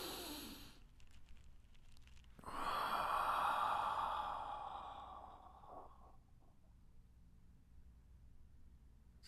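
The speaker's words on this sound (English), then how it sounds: "Take some deep breaths in." Deep, slow breaths during a guided relaxation and stretching session, a long airy inhale or exhale swelling then fading, heard close and alone without talk.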